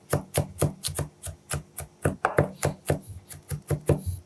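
A knife chops crushed garlic cloves on a cutting board in quick, steady strokes, about four per second, each a crisp close thud that repeats evenly.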